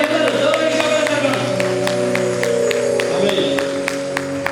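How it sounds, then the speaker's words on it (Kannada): Rhythmic, evenly spaced clapping from a wedding audience, loud and close, repeating steadily over a sustained voice or music throughout. "ಎಲ್ಲರೂ ಜೋರಾಗಿ ಚಪ್ಪಾಳೆ ತಟ್ಟೋಣ ಇನ್ನೂ ಜೋರಾಗಿ ಎಲ್ಲರೂ ಜೋರಾಗಿ ಚಪ್ಪಾಳೆ ತಟ್ಟೋಣ"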